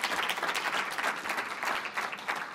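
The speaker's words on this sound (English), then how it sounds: "let's clap it up for youth actually wanting to write" An audience at a scholarship event claps warmly, a dense, even wash of many hands that holds steady for a few seconds without pauses.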